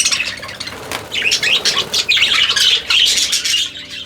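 Budgies in an aviary chirp and squawk in dense overlapping bursts while wings flap in quick flurries close by, the chatter loud and nearly continuous.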